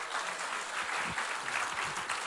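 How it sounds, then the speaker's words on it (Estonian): Steady applause from a congregation at a church summer camp's morning service, sustained and fairly even across the whole stretch, with a few low thuds beneath. "Nii et teeme veel kord Herbertile suure aplausi."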